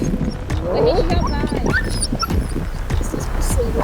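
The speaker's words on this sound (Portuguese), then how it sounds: "Nunca fiz com tanto cachorro ao mesmo tempo, membros da mesma matilha." Several dogs from the same pack yip, bark and whimper in a dense, overlapping clamor close by, while people talk excitedly throughout.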